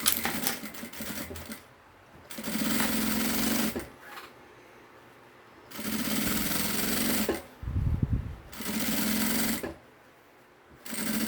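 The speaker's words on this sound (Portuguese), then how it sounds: "já faço aqui minha costurinha de segurança" A sewing machine runs in three steady bursts of a couple of seconds each, stitching the safety seam on a bag's gusset panel, with short quiet pauses between runs.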